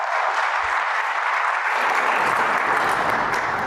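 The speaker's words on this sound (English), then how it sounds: "Let's have a round of applause for our wonderful volunteers." A church congregation applauds its volunteers at a Sunday worship service, a steady, dense wash of many hands clapping that swells slightly and carries on evenly throughout.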